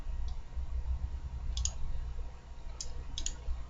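Computer mouse clicks, a few sparse, quick, faint ticks spaced apart over a low steady hum, close by and alone with no talking.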